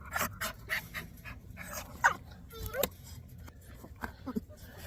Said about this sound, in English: Real nice little dog here.